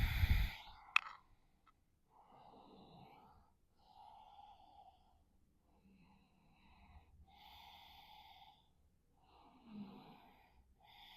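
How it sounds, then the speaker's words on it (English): Slow ujjayi pranayama ocean-wave breathing during a yoga class, with soft rushing breaths at an even pace, faint and close, after a brief clatter at the start. "Ujjayi pranayam, ocean wave breathing, respiración como las olas del mar."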